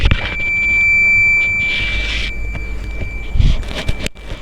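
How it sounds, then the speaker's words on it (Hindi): A buzzer wired to a PIR motion sensor alongside an LED sounds a steady high electronic tone for about two seconds, then fades into low background hum and faint handling clicks. "तो देखिए वापस से दिखाता हूँ, बजर बज रहा है।"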